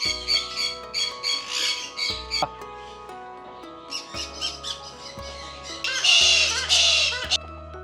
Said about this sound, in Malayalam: യെല്ലോ ക്രസ്റ്റഡ് കൊക്കറ്റോ ആണ്